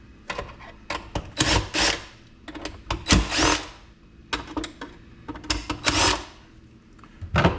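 An electric screwdriver whirs in repeated short bursts while backing three screws out of the cover plate on a four-wheel inground pool sweeper, close up with small clicks and handling noises between runs.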